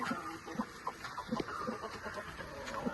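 A fighting-breed hen sitting on eggs to brood clucks in short, soft bursts repeated throughout, with light background rustle and bird noise nearby.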